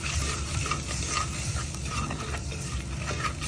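Chili and turmeric powder paste stirred into a pan for fish curry, a steady scraping and sizzling stir that stays close and even throughout without speech.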